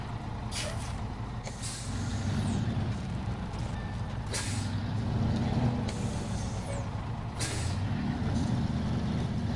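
A heavy truck in the Snowrunner video game idles with a low engine rumble while its trailer is hooked on, punctuated by several sharp hissing air-brake bursts spaced a few seconds apart, close and fairly loud, with no talking.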